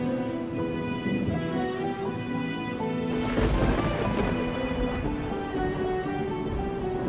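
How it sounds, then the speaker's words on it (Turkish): Heavy rain pours steadily while a low rumble of thunder swells midway, a dense, continuous wash of rainfall with no voices. "Ama yağmur geliyor çok fena."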